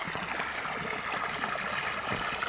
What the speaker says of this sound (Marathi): पाणी चालू आहे बघा.